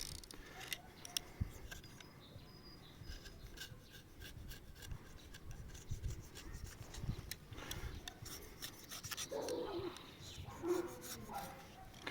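Close, scratchy rasping and scraping of sawdust off a cut apple branch before bark grafting, in irregular short strokes, with faint clicks and distant birds in the background.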